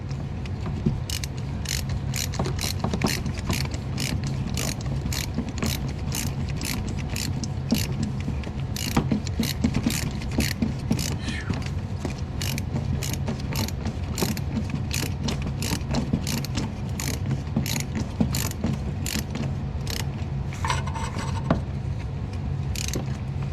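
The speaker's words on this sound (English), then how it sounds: "Feel it snugging down there, but it don't feel like it's really binding up." A hand ratchet tightens spark plugs into the aluminum cylinder heads of a Vortec V8 engine (4.8, 5.3 or 6.0), giving rapid, sharp clicks in a steady run up close for over twenty seconds.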